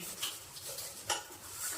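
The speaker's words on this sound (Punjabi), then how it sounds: "ਮੈਂ ਜ਼ਿਆਦਾਤਰ ਠੰਡੇ ਪਾਣੀ ਨਾਲ ਭਾਂਡੇ ਧੋਣੀ ਹੈ ਜੀ" Dishes being hand-washed in a home kitchen with cold water, with faint clinks of pots, plates and cutlery scattered across a soft background of running water and scrubbing, no voices.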